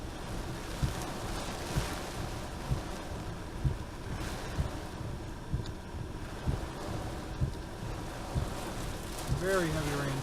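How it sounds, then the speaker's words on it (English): Very heavy rain pours down in Ellsworth, Wisconsin, during a tornado warning, a dense, continuous hiss with wind and periodic thumps, and a voice begins speaking near the end. "Very, very heavy rain."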